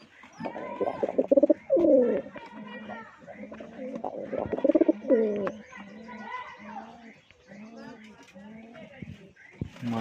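Rajshahi Giribaz pigeons cooing nearby in repeated throaty, rolling phrases, with someone talking over and between the calls.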